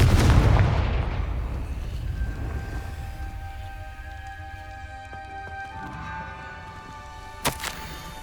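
A Confringo fire spell blasts in Hogwarts Legacy: a loud, booming explosion at the start that fades into a long ringing decay, followed later by a couple of small sharp impacts.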